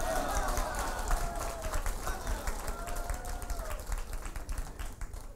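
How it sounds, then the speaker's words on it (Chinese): An audience claps at a winter solstice Dharma assembly, making dense, continuous applause at a steady level through the whole stretch, with a voice faintly audible over it. "谢谢你们的掌声啊"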